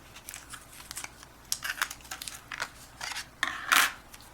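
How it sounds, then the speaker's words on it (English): Tape is peeled up and a metal cutting die lifted off paper during card making: a series of soft crinkling, ripping and tapping sounds, close and fairly quiet, with a sharper tear near the end. "So I'm going to carefully peel up this tape and take my die off."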